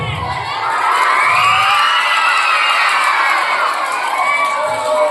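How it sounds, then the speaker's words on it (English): Schoolchildren at a Children's Day school celebration cheer and shout loudly as a crowd, a dense, sustained roar of young voices filling the whole stretch without letup. "I would like the students to give a big round of applause."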